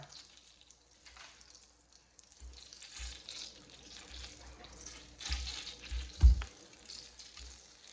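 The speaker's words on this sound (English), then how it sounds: "Sizzle, sizzle, sizzle." Beef short ribs sear loudly in a hot pan, a continuous crackling sizzle with bursts of spattering and a brief clatter near the end.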